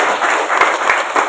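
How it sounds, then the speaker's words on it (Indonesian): Audience clapping at a Hindu religious teaching session in a pasraman, a dense, steady burst of applause from many hands, fairly loud and continuous without talk. "Tepuk tangan."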